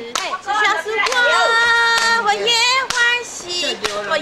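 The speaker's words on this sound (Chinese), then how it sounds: "鼓掌鼓掌鼓掌嘞！" Hands clap in a few sharp, evenly spaced beats at a religious temple ceremony, underneath a loud singing voice that carries on through the clapping.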